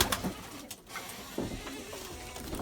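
Pigeons in a coop coo steadily at close range, a soft, continuous murmur of calls with no talking.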